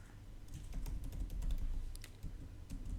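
Code being typed on a computer keyboard while setting up an Android project in Kotlin, with a steady run of close, crisp key clicks over a low background hum.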